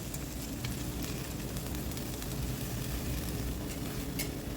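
Freshly washed mudakathan leaves go into a hot pan and sizzle with a dense, continuous frying crackle, moderately loud and steady throughout.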